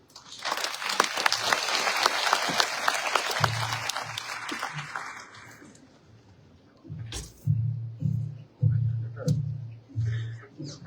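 Applause from an audience at an international investment conference's official opening, filling the first half with dense clapping before fading; a voice then speaks over the quieter hall.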